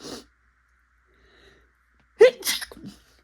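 A single loud sneeze bursts out close by, preceded by a short breath and then silence, with a brief exhale trailing after.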